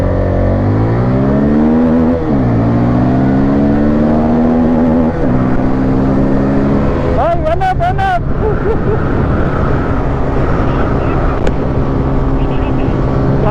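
A Karizma XMR and a Pulsar N250 motorcycle run together, a loud continuous engine drone with rising and falling revs and a sharp throttle blip partway through, close to the rider.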